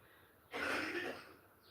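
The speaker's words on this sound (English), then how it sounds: "As I cough." A single short, breathy cough bursts out close to the microphone, then fades into quiet.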